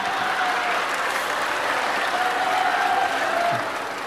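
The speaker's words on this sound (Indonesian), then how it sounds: "tepuk tangan." Audience applause at an Indonesian religious lecture: steady, dense clapping from a crowd, continuous for about four seconds and tapering slightly at the end, with no talk over it.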